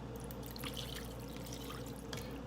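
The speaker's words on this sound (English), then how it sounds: "And then I'm going to add water." Water runs steadily into a bowl holding pieces of hot dog meat, a continuous close splashing trickle with no pauses and no talking.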